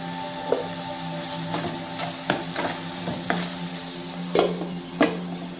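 Onions browning in oil in a pan for Guntur gongura chicken curry, a steady close sizzle broken by several distinct spoon scrapes and taps against the pan at irregular intervals.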